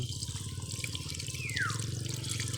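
Water flows out of the ink pump of an Epson L-series printer during cleaning, a soft continuous trickle under a steady mechanical hum, with one brief sliding squeak partway through.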